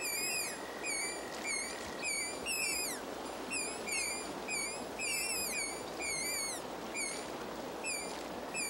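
High, whistling cries from young mink kits in their den by a river repeat in quick clusters over a steady background hiss.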